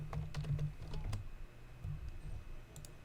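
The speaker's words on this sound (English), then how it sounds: "You gotta keep typing." Keys clatter on a computer keyboard during an NHL 20 franchise session, a quick burst of taps at the start, then scattered clicks with pauses, fairly quiet and close, with a low hum underneath.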